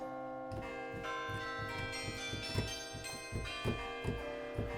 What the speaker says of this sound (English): they really thought, let's sample a bell tower